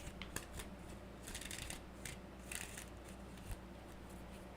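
A deck of playing cards riffled and shuffled in several quick bursts, the last pass ending in a bridge, close and fairly quiet with soft crackling flutters over a low steady room hum.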